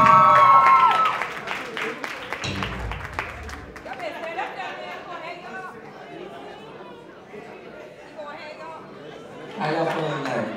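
A crowd at a live concert at The Underground Arts in Philadelphia claps and chatters for a performer. The applause is loud at first, then eases into a busy murmur of voices with scattered claps.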